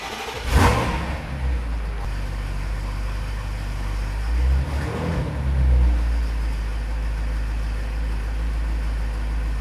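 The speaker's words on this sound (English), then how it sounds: "All right, guys, let's crank the car up." BMW F90 M5 V8 cranks to life with a sharp start-up flare, then settles into a loud, deep idle broken by two blips of revving around the middle and end, close and alone without talk.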